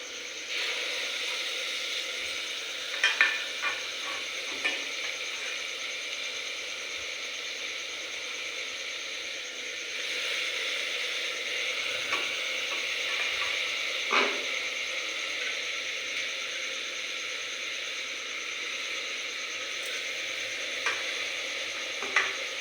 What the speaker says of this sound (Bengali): চাল দিয়ে দিয়েছি, ভালো করে নেড়ে নেব।